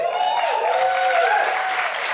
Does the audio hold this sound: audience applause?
yes